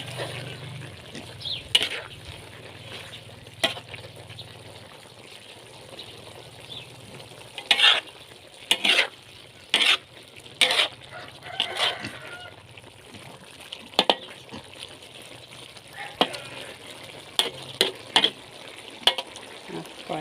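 Chicken giblets with holy basil are stirred in a pan over low sizzling, with a string of sharp spatula scrapes and clacks against the pan, sparse early then clustered in quick bursts later.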